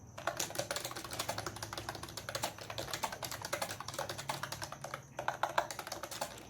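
Rapid, steady keystrokes on a computer keyboard during a typing test, close and continuous with brief pauses, no talking.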